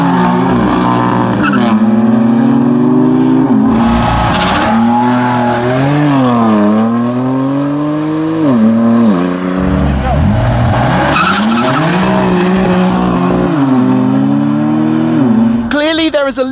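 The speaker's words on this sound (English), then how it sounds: "Now it's time for a few little drag races between the two cars." Two BMW M3 CS cars drag race with engines revving hard through rising and falling gear shifts while tires squeal loudly, close and continuous, with a final burst of noise at the end.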